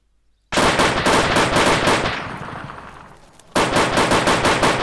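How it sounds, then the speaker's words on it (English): Heavy artillery shells slam down on a hilltop in the ArmA 2 Operation Arrowhead military shooter: a loud, dense burst of rapid booming impacts that fades into a decaying rumble, then erupts again just as hard. "Shells 20 seconds out. Okay guys, already incoming on hilltop."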